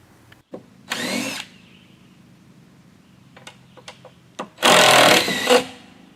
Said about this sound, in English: He was in charge of backing out the screws on the tread boards